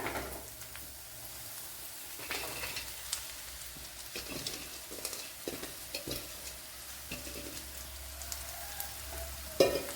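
Bitter gourd added to small onions sautéing in a pan: a steady, soft sizzle and crackle of frying with occasional stirring scrapes, close and continuous, with no talking.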